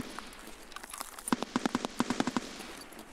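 Bursts of heavy gunfire from a big gun in Escape from Tarkov, a rapid string of sharp cracks at middle distance, rising into a tight volley of around a dozen shots with no talking.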